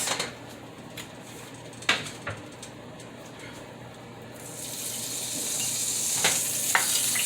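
Salisbury steak patties in a hot pan with mushroom butter give off a steady sizzle that starts soft and swells into a louder, continuous hiss, with a few faint clicks and clatters early on.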